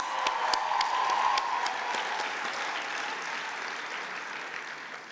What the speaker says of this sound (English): Let's give them a loud round of applause.